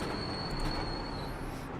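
Sustained high-pitched squeal of cold brakes on a BMW M4 GT3 race car at Daytona in iRacing, over a steady rumbling engine and road noise, continuous and fairly loud throughout.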